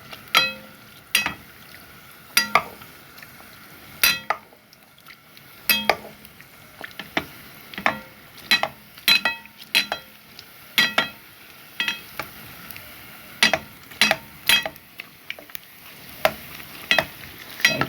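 Flatbread, a puffed restaurant-style loaf, fries in hot oil while oil is spooned over its top. A steady close sizzle carries repeated sharp clinks and scrapes of utensils against the pan, with no voices.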